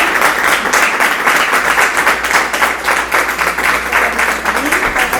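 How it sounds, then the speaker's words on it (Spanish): Loud, dense applause from the audience at a book presentation in a library, many hands clapping in a steady unbroken roar for the whole stretch. "Vamos a dar un aplauso, ¿no?"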